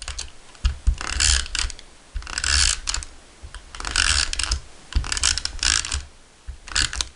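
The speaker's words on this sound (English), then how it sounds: "I'm just going to flip it over and apply some adhesive" Adhesive being applied by hand to the back of white cardstock, a run of quick clicking, ratcheting taps in short bursts with brief pauses between, close and fairly loud, no talk.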